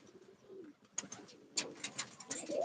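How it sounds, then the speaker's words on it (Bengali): Pigeons near a tower in an open area coo softly at a moderate distance, with a few scattered faint calls followed by a louder burst of close bird sounds at the end. "যে টাওয়ারে পায়রাটা বসে আছে"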